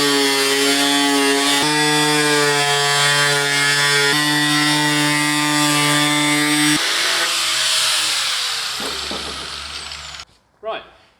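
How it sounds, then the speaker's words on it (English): Angle grinder cutting carbon fibre bodywork for an Audi A3 TCR, a loud steady high whine that shifts pitch through the cut, then winds down and stops near the end. "then get going with the grinder"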